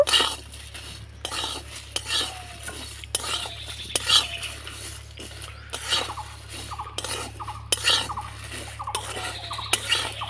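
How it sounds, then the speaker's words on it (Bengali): Whole spices (black pepper, cloves, nutmeg and mace) are dry-roasted in a pan over medium-low heat. A metal spoon scrapes and clinks against the pan in a rhythmic run of close strokes, with a light sizzle underneath. "লবঙ্গ আর এখানে নিয়েছি জায়ফল আর জৈত্রী এবার হালকা আছে সম্পূর্ণ মশলাগুলো আমি ভেজে নেব"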